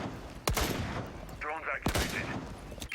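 Gunfire from a sprayed weapon in Rainbow Six during a Pro League PC esports match, with sharp loud shots near 0.5 and 1.9 seconds and a brief whining tone between them, all under ongoing game noise.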